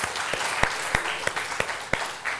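A studio audience at a comedy contest final claps steadily, a dense patter of hands with a few sharper claps standing out, fairly close and sustained throughout.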